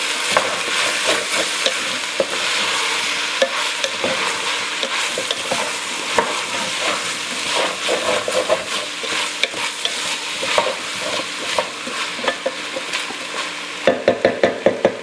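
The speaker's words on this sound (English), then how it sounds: "we're going to add our onion to the mix. And stir that all up" Onion stirred into a pot of New Mexican green chili stew, a continuous close frying sizzle with busy scraping and clacking of the spoon against the pot, growing choppier toward the end, with no talking.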